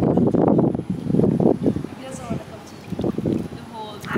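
Wind blowing outdoors by the water, gusting in loud buffeting rumbles against the microphone with brief lulls between, while people talk nearby.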